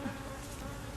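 A dense, steady drone of many honeybees buzzing close around a beekeeper during a live hive inspection, continuous and fairly loud with no pauses.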